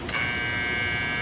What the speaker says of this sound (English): This has an alarm.